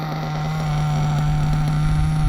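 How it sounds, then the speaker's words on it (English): A Hobao Hyper SST nitro RC car engine idles steadily during break-in, a loud, continuous buzzing drone with a strong constant pitch, close up with no other sounds. "This thing's been sitting here idling for about 3 minutes."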